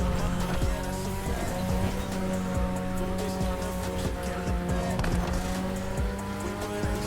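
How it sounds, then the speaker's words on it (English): Several Corvette Stingray cars race in a rallycross event in The Crew Motorfest, engines droning steadily and loudly with tire squeal and skidding throughout. "a couple of Stingray Corvettes. We're all playing Rallycross now."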